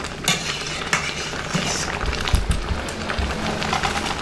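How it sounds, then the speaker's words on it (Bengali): A spoon scrapes and clinks steadily around a pot of vegetable dal seasoned with salt and turmeric, over a continuous low bubbling and sizzle, close and moderately loud. "পরিমাণ মতো হলুদ গুঁড়ো, একটু নেড়ে চেড়ে দিচ্ছি।"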